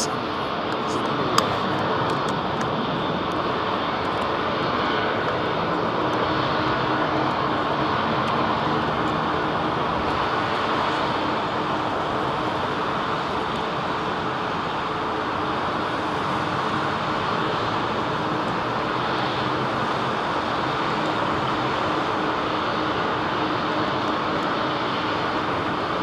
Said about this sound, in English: it's the aircraft basically